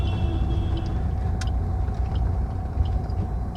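A car on a road in Udaipur, Rajasthan, near Saheliyon ki Bari, with a steady loud low engine rumble close by and a faint tonal hum throughout as it is driven across the road and parked.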